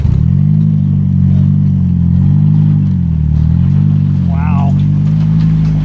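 A Polaris Slingshot's engine holds a steady, loud drone with slight rises in revs as it drags a large boat trailer up out of the water, with a brief spoken exclamation partway through.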